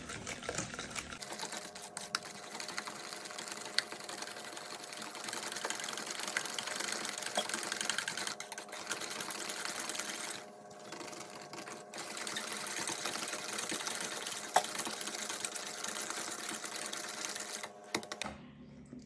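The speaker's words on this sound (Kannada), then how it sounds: "ಇವಾಗ ಇದನ್ನ ಮತ್ತೆ ಚೆನ್ನಾಗಿ ಬೀಟ್ ಮಾಡ್ಕೋಬೇಕು." An electric mixer beats eggs into cupcake batter with a steady, whirring motor drone and faint rattling, running for most of twenty seconds with a couple of brief dips in speed and no talking.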